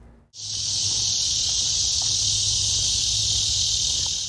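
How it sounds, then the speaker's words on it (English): A loud, steady electric buzz of summer cicadas in Kansas fills the air after a brief quiet start, continuous and unbroken throughout. "the noisy sound of cicadas in the summertime"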